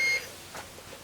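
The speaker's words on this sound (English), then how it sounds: "it does actually show a short and does beep" A single short electronic beep from an Aneng MH13 insulation resistance tester detecting a short sounds at the start, followed by quiet background noise.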